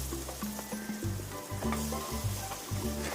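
Ground masala paste for a fish curry sizzles and fries in hot oil, a steady close crackle that stays loud throughout with a busy, continuous texture and no talking.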